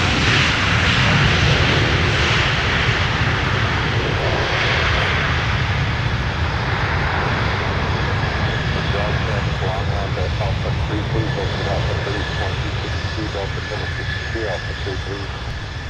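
An Airbus A330-300 with Rolls-Royce Trent 700 engines at Minneapolis airport gives a steady, loud jet roar that holds evenly throughout, with a broad rushing wash and faint tonal whine on top.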